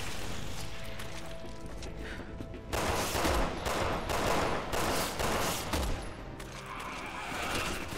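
Rapid game gunfire in Resident Evil 6, with dense automatic bursts of shots and loud crashing impacts that swell in the middle and continue more lightly toward the end.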